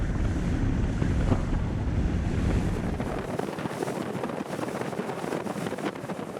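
Joker Boat Clubman 24 inflatable boat running at about 25 knots with the engine at 3,700 rpm, giving a steady loud roar of engine, rushing water and wind buffeting the microphone throughout.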